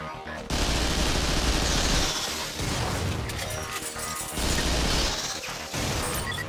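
Weapon fire aimed at a virtual target in the video game Vanquish, loud crashing bursts of shots in three long volleys separated by brief pauses.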